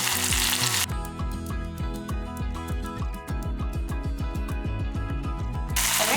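Seeded ripe green chillies sautéing in a hot pan for chutney, a loud, continuous sizzle broken by a dense run of rapid crackles and pops as the oil spits.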